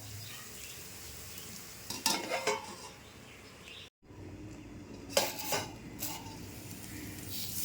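Drumstick pods (shevga) fry in a pan, giving a steady low sizzle with clattering bursts of utensil scraping and stirring around the middle and again near the end, with a brief silent gap between.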